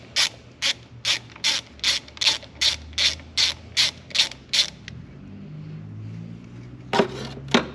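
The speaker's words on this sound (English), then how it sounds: "you're going to take this 10 millimeter bolt off this AC line where it holds onto this bracket" Ratchet wrench backing out a 10 mm bolt from an AC line bracket on a Chevy Colorado engine, about twelve steady rhythmic clicking pulls up close, then a pause with low rumble and a few final clicks.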